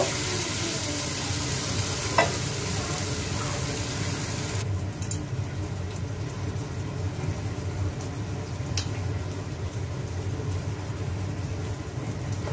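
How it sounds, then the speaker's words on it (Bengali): Homemade snacks fry in hot oil with a steady, rain-like sizzle, broken by a few light taps and clinks of a utensil against the pan. "এক এক করে এগুলো সব এভাবে ভেজে নিব।"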